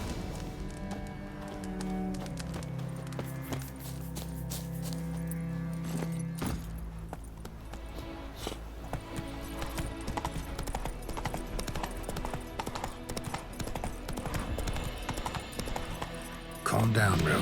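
Geralt's horse Roach clip-clops at a steady gallop in Witcher 3, hoofbeats running throughout beneath game music and a voice speaking.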